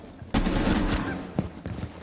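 A hand cannon in Rainbow Six Siege fires a few heavy, close shots with a short gap between them. A voice talks over the gunfire.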